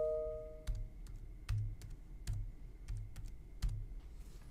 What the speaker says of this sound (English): you'll type in the date that you processed it